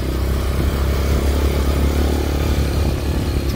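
Honda Fat Cat TR200 motorcycle engine running close and loud in the woods, a steady rough mid-pitched drone with a slight rise in revs and clattering throughout.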